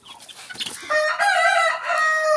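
A rooster crows loudly and close by in a long drawn-out call, after a few short clucks from nearby chickens.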